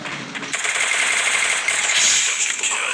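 Rapid automatic gunfire in the Free Fire Clash Squad mobile game, a sustained burst of fast crackling shots after a brief pause, loud and continuous.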